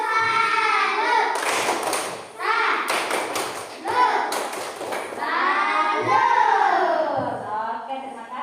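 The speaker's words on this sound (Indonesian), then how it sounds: "tepuk salut dulu untuk temannya" Schoolchildren in a classroom perform a rhythmic clapping salute, bursts of hand claps and thumps mixed with chanting young voices, loud and close.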